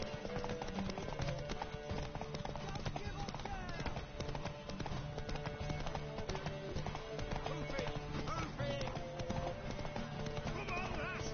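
A horse galloping in The Witcher 3 video game, rapid rhythmic hoofbeats running continuously at close range with the occasional neigh, under background music and voices talking.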